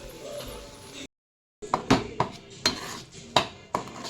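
A spoon stirs spinach puree in a cooking pan, giving a few sharp metallic clinks and scrapes spaced irregularly, near and fairly quiet, after a brief silent gap.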